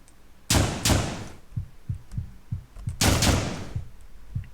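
Two sharp gunshot bursts from the Deadbolt video game ring out loudly about two and a half seconds apart, with soft muffled thumps scattered between them.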